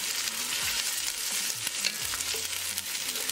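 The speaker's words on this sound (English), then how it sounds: "We're going to cook onion for 2 minutes." Onion frying and being stirred in a pan for homemade vegetarian vegetable soup, a steady close sizzle with occasional scraping stirs throughout, no voices.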